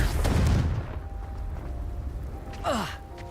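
A Confringo fire spell cast in Hogwarts Legacy gives a sharp burst and a short descending whoosh, loud and close, with a low rumble underneath. A fainter blast sounds near the start.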